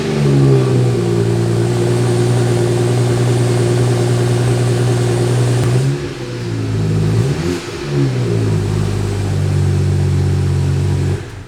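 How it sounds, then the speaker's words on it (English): A BMW G80 with an aftermarket downpipe cold-starts in Sport Plus, its engine holding a loud, steady, deep idle drone close by, dipping briefly around the middle and then settling back. "So that was a stone cold start in Sport Plus."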